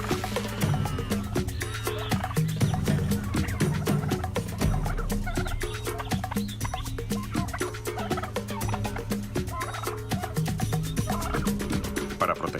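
Australian brush-turkeys call from a group, a dense stream of overlapping gobbling notes that keeps up steadily for over twelve seconds, with no voices.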